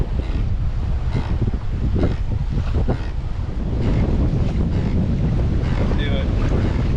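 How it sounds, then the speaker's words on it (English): Wind buffets the microphone and choppy whitecap waves slap against a Hobie Pro Angler kayak heading straight into them, loud and close, with gusty rumble and splashes throughout. "Straight into the waves."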